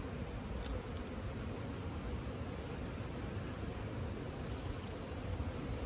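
Honey bees at an open beehive make a dense, steady buzz that fills the whole stretch, soft and continuous with no talking over it.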